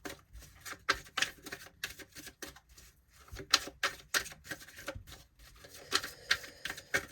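Tarot cards are shuffled in quick, irregular bursts of crisp riffling and tapping, close and fairly quiet, with short pauses between runs.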